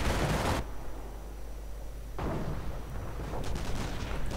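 Rifle fire in a World War II-style strategy video game, loud bursts of dense crackling shots that break off into a short lull, then resume as rapid overlapping gunfire.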